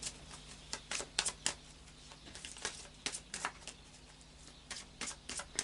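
Oracle cards are shuffled in quick, irregular bursts of soft slapping and riffling, close and quiet, with no talking.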